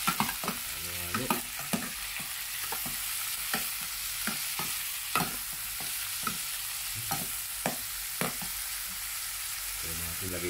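Salmon sinigang is stirred in a cooking pot, a utensil scraping and tapping the pot in a series of regular, close strokes over a constant simmering hiss.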